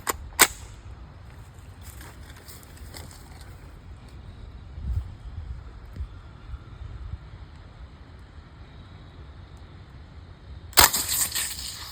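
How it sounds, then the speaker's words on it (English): A CO2-powered BB gun rated at 1200 FPS fires at targets outdoors: one sharp crack near the start and another near the end, separated by a long quiet stretch of soft wind noise. "the BB gun, CO2 powered, 1200 FPS"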